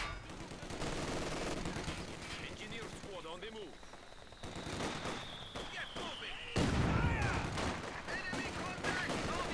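Enemy machine gun fire in Company of Heroes on the 4v4 Port of Hamburg map, with repeated dense bursts of battle gunfire and other combat noise, and voices talking over it throughout.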